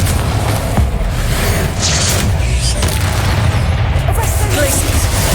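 Explosive Confringo spell blast from the video game Hogwarts Legacy, a loud booming burst over dense, continuous game noise and rumble, with spell effects packed closely together.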